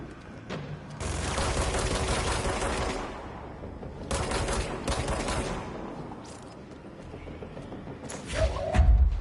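Weapon fire at enemies in the action game Control, delivered in loud bursts of rapid shots with short pauses between them and a heavy thud near the end.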